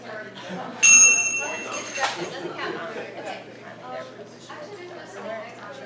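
A bell rings once to signal the start of a session at a summer institute, a bright, clear strike that rings out and fades under the murmur of a chattering crowd in a room.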